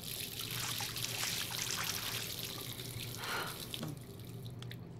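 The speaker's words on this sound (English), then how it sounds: "let's use the faucet" Water runs steadily from a bathroom sink faucet in the video game Life Is Strange, a soft continuous splashing stream heard alone at low volume.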